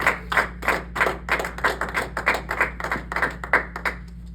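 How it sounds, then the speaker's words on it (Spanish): A church congregation claps together in a steady, even rhythm of about three claps per second, fairly close, over a low constant hum. "Dale un aplauso al Señor."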